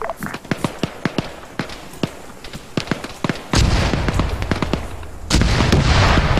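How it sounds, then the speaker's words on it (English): A rapid series of sharp gunshot-like cracks, then sustained loud rumbling blasts of explosions in Arma 3, close and dense, without speech. "Explosions behind, south."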